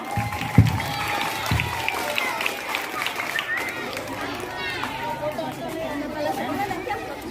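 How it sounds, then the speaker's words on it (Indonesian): Audience applause and crowd chatter at a primary school award ceremony honouring winners of a boys' marching competition, a steady sustained wash of clapping mixed with murmuring voices throughout. "Beri tepuk tangan yang meriah"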